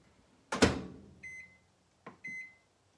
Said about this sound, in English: we'll put this in the microwave.